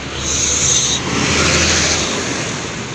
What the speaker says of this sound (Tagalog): Maririnig nyo pa rin yung ingay ng mga sasakyan kasi nasa kalsada tayo.